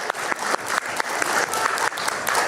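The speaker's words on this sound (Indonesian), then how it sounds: "boleh tepuk tangan silakan" Studio audience applause on an Indonesian talk show, brisk and fairly loud, with a regular clapping rhythm through the short burst and no talking.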